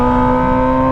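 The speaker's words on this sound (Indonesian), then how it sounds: "karena suara knalpotnya berisik banget ini ya" A Kawasaki ZX25R motorcycle with a loud aftermarket exhaust holds a steady, harsh, high-pitched engine drone at close range, filling the moment without any talk.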